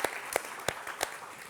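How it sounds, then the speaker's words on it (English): Sparse applause from a live-event audience at the MIT Media Lab, a few distinct claps standing out over a faint, thin wash of clapping, quiet and somewhat distant. "Let's give a round of applause for Missing Pieces and these gorgeous videos."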